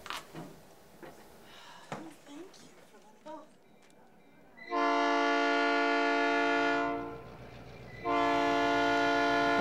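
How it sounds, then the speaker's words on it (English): A restored vintage passenger train is on the move. Talk and rattling come first, then two long, loud, sustained horn blasts ring out. "feeling the chug of the wheels on the track beneath us and the power of this rolling machine of steel"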